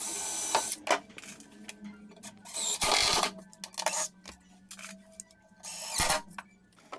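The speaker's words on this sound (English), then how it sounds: "Just a couple of screws to hold them in place." Screws are driven in to fix fluted pilasters in place, giving short bursts of buzzing power-driver whirr separated by quiet pauses, close and fairly faint.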